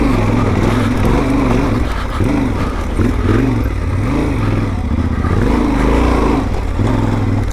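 A Yamaha Tenere 700 World Ride motorcycle revs and labors on a rough off-road trail, a loud continuous engine drone rising and falling in pitch with throttle changes, recorded close from the bike.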